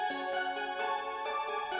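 A bright synth accent lead in a trap beat plays short repeated notes in a quick rhythmic pattern, each note sharp and tonal, sitting alone without voices.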